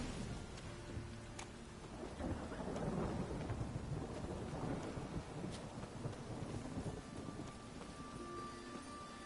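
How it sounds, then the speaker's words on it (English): Steady rain pours down with deep rolls of thunder rumbling through, a dense continuous wash of sound with no voices, in the video game The Witcher 3. "It just rains and rains."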